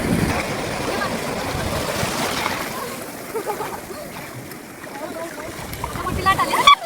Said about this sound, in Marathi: मोठी लाट आली.